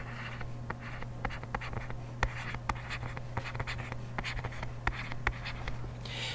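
Pen or pencil writing trig notes on paper, with a steady run of close scratchy strokes and taps against a constant low hum, no voices.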